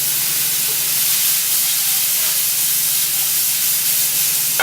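Artichokes, capers and mushrooms sizzle steadily in a pan over an open flame in a restaurant kitchen, a continuous close hiss with no speech.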